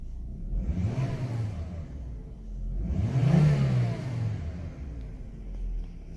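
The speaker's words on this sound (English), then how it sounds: "I erased the code and all of a sudden it idled correctly." A 2008 Volvo S60 engine idles after a fault code is cleared, giving a steady low rumble that swells twice. It is heard close and alone, with no talk.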